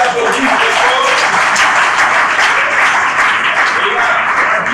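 An audience at a talk on girls in science and technical fields claps hard and steadily, a dense, even burst of applause throughout.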